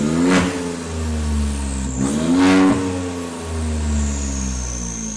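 A 2022 VW Golf 8 with a 1.0 TSI engine, downpipe and exhaust cutout, revved three times in quick succession, each rev climbing sharply and then falling back to a steady idle, heard close and loud.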